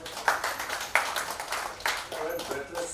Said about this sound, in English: How about applause for that?